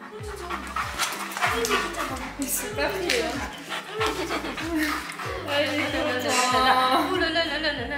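A Bernese mountain dog whimpers and pants in quick, high whines close by, with a person talking over it.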